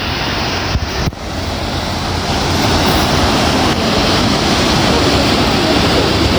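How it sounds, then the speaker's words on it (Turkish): A powerful waterfall in the mountains of Rize on the Black Sea coast roars as a constant, loud broadband rush, with brief wind buffeting early on. "O muhteşem şelaleyi göstereyim. Yukarıdan bulutların arasından akıp gelen"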